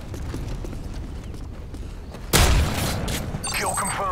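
A stealth airstrike in the game Modern Warfare 3 lands with a sudden heavy blast partway through, followed by sustained rumbling and crackling debris, all loud and close over steady battlefield ambience.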